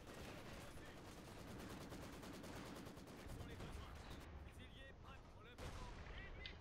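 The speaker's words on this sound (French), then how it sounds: "La mitrailleuse, elle est là." Machine gun fire in the World War II strategy game Company of Heroes 2 clatters in rapid continuous bursts with heavier explosions and battle noise underneath. A voice talks faintly beneath the din.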